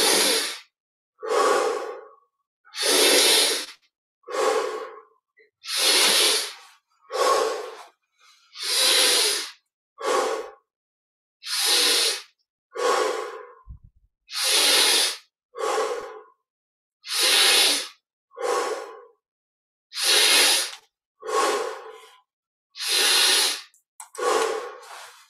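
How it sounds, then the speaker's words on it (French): Slow deep breaths during a guided breathing practice, drawn in through the nose and released through the mouth, about fifteen even, close, airy inhale-exhale cycles alone in quiet with brief pauses between them. "Inspire par le nez, expire par la bouche."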